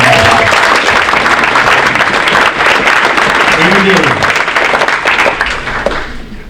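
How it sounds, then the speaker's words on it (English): Applause for junior athletes at a winter varsity athletic awards ceremony, a dense steady wash of clapping from a large crowd lasting throughout, with a faint voice briefly audible beneath it. "So a round of applause for our juniors."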